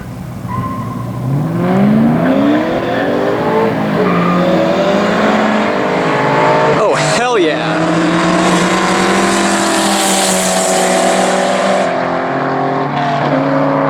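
A 2003 Ford Mustang Mach 1 in a street race roars loudly and steadily close by, its engine rising and falling through gear changes, with a sharp tire squeal near the middle and a sustained high whine afterward.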